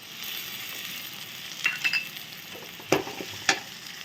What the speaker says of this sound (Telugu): ఇప్పుడు ఇందులో టమాటా యాడ్ చేసుకున్నామండి.